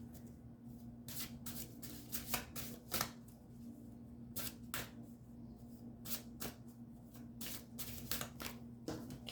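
Oracle cards shuffled by hand, a run of crisp riffling bursts and soft flicks at an uneven pace, close and quiet, with no talk over them.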